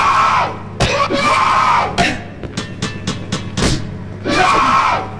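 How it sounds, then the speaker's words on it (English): Screaming enemies in the horror video game Cry of Fear, several loud shrieking cries with thumps and crashes between them, harsh and close. "I hate it when they scream."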